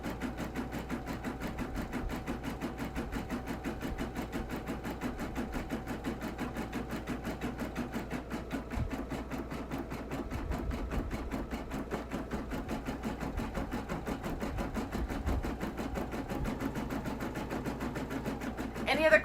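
A Persona PRS 100 embroidery machine stitches on leather, a rapid regular needle chatter driving on close and steady for the whole stretch.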